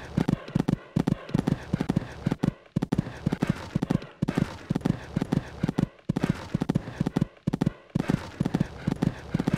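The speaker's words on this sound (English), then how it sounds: "This horse just cantering along this part of the course." Horse hooves canter in a steady rhythmic clip-clop along a cross-country course in the video game Equestriad 2001, loud and close, with repeated strong beats and no talk over them.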